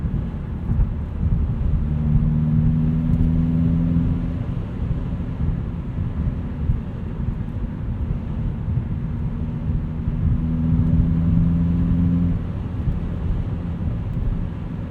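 Low, steady engine drone of a 2016 Hyundai Veloster Rally Edition with a small turbo engine and six-speed manual, cruising, with a faint tonal whine rising briefly twice; fairly quiet and constant throughout.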